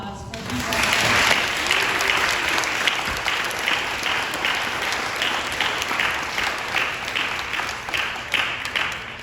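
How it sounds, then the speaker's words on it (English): An audience at an Eagle Scout ceremony claps steadily for several seconds, a loud, sustained wash of applause with a few individual claps standing out toward the end. "can I get another round of applause for these guys?"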